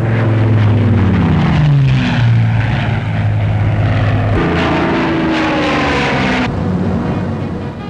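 Propeller-driven military aircraft roar past at low level during an air exercise, a loud continuous engine drone with falling pitch as each plane sweeps overhead and away, one pass following another.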